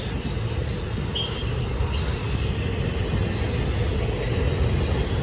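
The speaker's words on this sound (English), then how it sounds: "It's like an intermodal train." A Union Pacific intermodal freight train with containers, trailers and auto racks rolls past on the main track at Silverwood, California. It gives a steady, loud rumble, with wheels squealing in bursts near the start.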